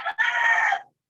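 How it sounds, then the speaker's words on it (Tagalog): A rooster crows once at close range, a short loud cock-a-doodle-doo of under a second that starts with a brief clipped note, then a sustained call cutting off into silence. "saba kayong manok"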